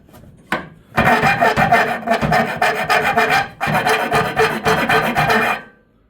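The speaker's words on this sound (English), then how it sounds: "Aluminum's easy, you just kind of go in with a file." A hand file rasps notches into an aluminum radiator for a Dodge D250 truck, loud close back-and-forth strokes in two steady bursts with a brief pause, no speech.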